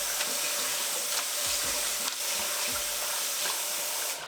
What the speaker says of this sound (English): we're just going to run some cold water on them